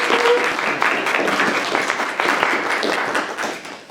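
A lecture audience applauds to welcome Professor Miller at an Oxford Interfaith Forum event, dense steady clapping from many hands filling the room for several seconds, fading slightly at the end.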